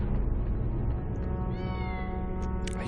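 A cat meows in a drawn-out, loud, close call in a Harry Potter 1 video game, heard alone with no talking.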